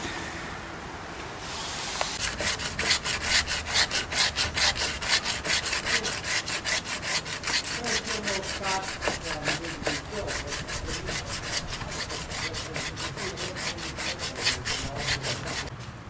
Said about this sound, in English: This is the slow and hard way of doing this with a block and a piece of sandpaper.